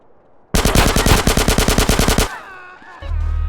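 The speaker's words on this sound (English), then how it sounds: "So this mod allows you to add a machine gun somewhere around your map." Rapid machine gun fire in GTA San Andreas with the DYOM mod: one loud, close burst of about a dozen and a half evenly spaced shots, followed by a ringing tail and a low rumble.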